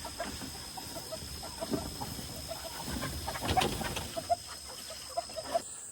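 Pastured chickens in a rotationally grazed flock, cluck steadily around a lightweight movable coop outdoors, with scattered short calls close by and a few louder squawks toward the end.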